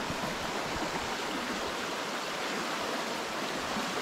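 A clear river near Brașov rushes and burbles steadily, a dense, continuous broadband flow of water that stays loud and even throughout with no voices over it.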